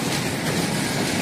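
Train at a railway stop near an airport in Montenegro, heard close and loud as a steady rolling rumble with rail clatter, no voices over it.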